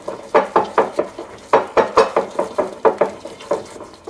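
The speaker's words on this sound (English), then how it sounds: "add 1 tablespoon of eggnog. And just give this a good stir." A utensil scrapes and clinks rhythmically against a small bowl while stirring thick powdered-sugar and eggnog icing, about fifteen quick strokes in uneven bursts, close and clear.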